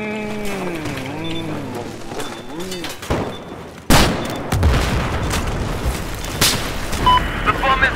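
In Battlefield 4, a voice talks over the game before a dull thud, then a sudden loud bomb explosion bursts out and leaves a long rumbling, crackling tail.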